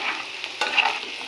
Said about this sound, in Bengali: তো আলুটাকে আমি মুরগির মতো করে ভেজে নেব।